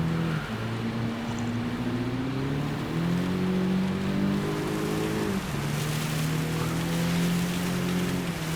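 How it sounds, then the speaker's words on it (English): Steady heavy rain hisses throughout alongside a droning engine whose pitch rises and falls in a racing video game, loud and continuous with no voices. "because it is heavy rain"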